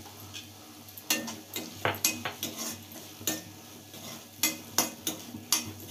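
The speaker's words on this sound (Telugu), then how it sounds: "చల్లుకొని కారం వేసేసుకొని ఒకసారి కలుపుకొని దింపేసుకోండి" Bottle gourd curry stirred in a pan with chilli powder and coriander, a spoon scraping and clinking against the metal in irregular bursts over a faint low hum, close and moderately loud.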